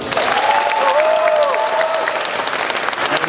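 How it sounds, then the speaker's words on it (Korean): A church audience at a live-broadcast festival bursts into loud, dense applause, with a high whistle or cheer riding over the clapping early on. The clapping stays strong and even throughout. "박수를 아주 크게 치셔야 됩니다"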